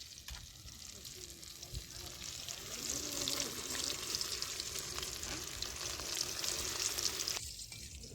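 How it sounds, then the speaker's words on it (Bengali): Large potato chunks sizzle steadily in hot oil at an outdoor riverside picnic, a continuous crackling hiss that holds up close for several seconds with faint background activity. "এখানটায় প্রথমে বড় বড় আলু ভেজে নেওয়া হচ্ছে"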